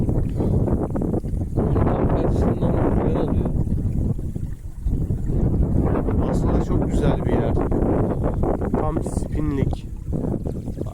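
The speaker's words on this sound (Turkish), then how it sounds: "Enteresan bir şekilde rüzgar var." Strong wind in a bay buffets the microphone throughout, a loud, rumbling roar with gusts, while people talk over it.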